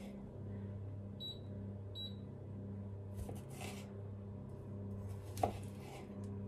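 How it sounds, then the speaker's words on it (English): A knife chops spring onion on a cutting board, quiet and close, with a few soft cutting knocks over a steady low kitchen hum. "just cutting that from top to bottom, the spring onion"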